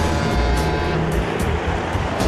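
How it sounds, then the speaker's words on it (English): A Mack truck rolls past near the water with a loud, close, deep rumbling roar that stays heavy and steady throughout, and no one speaks over it. "To my right, that's a Mack truck."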